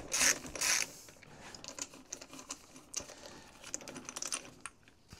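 Quick ratcheting clicks from a ratchet fitted with a 30 mm socket turning an alternator nut, with two louder metallic bursts at the start and then lighter irregular ticks nearby.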